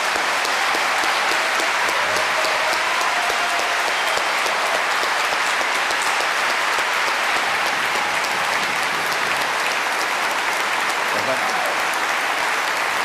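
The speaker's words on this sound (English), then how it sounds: "I told them not to clap." Sustained audience applause fills the hall at the close of a lively debate between two brothers, a dense, steady clatter of many hands that stays loud and even throughout with no talk over it.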